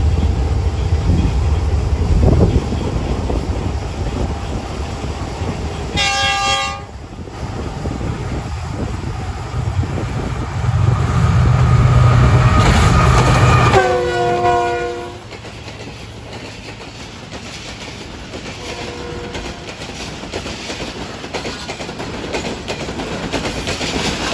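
The 8 Down Tezgam train arrives at Dabheji station with a loud, heavy rumble and wheel clatter, sounding two separate horn blasts a few seconds apart as it passes close by.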